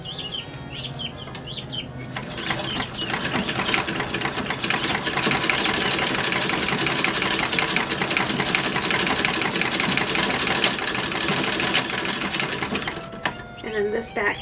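A sewing machine runs in a long, steady burst while stitching a back yoke onto a child's 1930s-1940s style dress bodice. The rapid mechanical whirring and clatter sits up close, with a few brief handling noises before and after.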